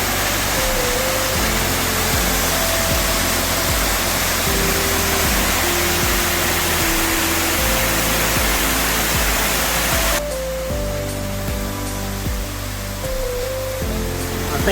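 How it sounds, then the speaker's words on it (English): A waterfall on the Milford Track in New Zealand roars with a loud, constant rushing wash under soft musical tones, and the sound shifts abruptly near the end. "Beautiful waterfall."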